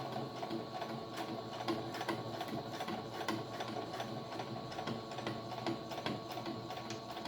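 Sewing machine top stitching along the seam of a fabric face mask with white thread, a steady, close, continuous mechanical whir with rapid needle ticks, running alone without talk.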